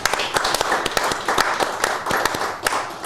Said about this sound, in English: Should we have a round of applause for Dave?